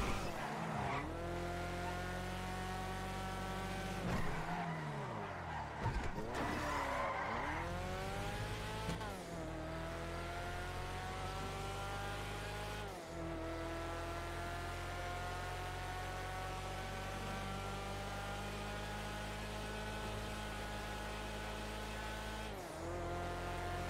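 A turbocharged car in GTA roleplay revs and shifts through repeated rising engine sweeps, broken by sharp tire squeals and skids at several points, loud and continuous with no speech.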